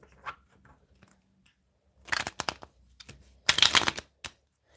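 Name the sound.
shuffling tarot cards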